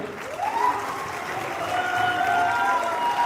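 Audience clapping after a motivational speech at an Asclepius Wellness meeting, a steady wash of applause that builds slightly and holds for a few seconds, with no voices over it.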